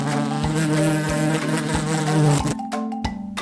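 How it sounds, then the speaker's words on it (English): A bee buzzes in a steady, close, fairly loud drone that wavers slightly, then breaks into shorter stuttering bursts near the end. "A bee makes a buzzing sound."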